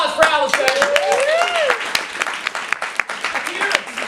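Scattered applause from a theater audience at a live La MaMa performance, individual sharp claps rather than a dense roar, mixed with cheering and voices rising and falling over it.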